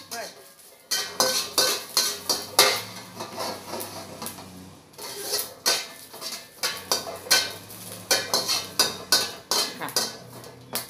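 Chilies dry-roasting in a wok-style pan in a rustic home kitchen, heard as repeated metallic scraping and clattering strokes of a utensil against the pan in a steady irregular rhythm, close and clear without talking.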